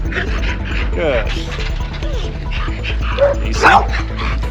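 Reactive dog barking in sharp yips and letting out whimpers, close by and irregular, mixed with a person talking and some mechanical rattling.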